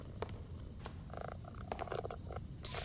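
A cat purs in the Power Wash Simulator 2 video game as a faint, steady low rumble under scattered short game noises, ending in a brief louder hiss-like burst.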